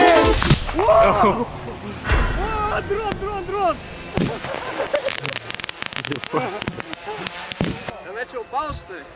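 Several sharp gunshot-like bangs crack out at irregular moments amid excited voices talking and shouting outdoors.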